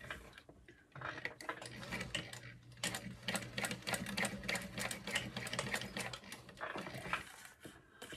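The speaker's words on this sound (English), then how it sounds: "we're just gonna stitch along the ends there." A sewing machine stitching along the ends of a fabric wristlet clutch, a fast steady mechanical chatter with a low motor hum that starts, runs for several seconds, then stops, close and quiet.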